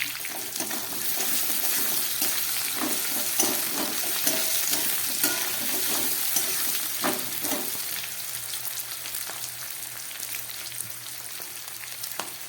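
Chopped capsicum frying with garlic and other vegetables for a broccoli and beans curry, a dense continuous hiss of sizzling oil close by, with occasional scraping stir strokes that ease off toward the end.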